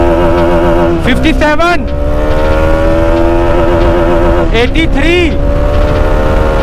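A Bajaj Dominar 400 motorcycle accelerates hard through its gears, with a loud, close engine whine rising in pitch, dipping at each of two quick shifts and climbing again, while someone speaks briefly over it.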